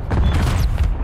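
Rapid gunfire in a first-person shooter video game during a tournament match, a loud burst of repeated booming shots over about a second, with no talking over it.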